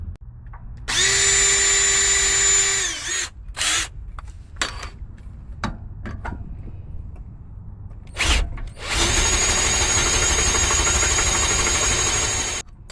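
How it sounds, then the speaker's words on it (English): A power drill whines loudly in two long bursts while boring through aluminum, with short stops and brief revving in between, sounding close by. "I'm not going to drill through the steel, I'm going to drill through the aluminum."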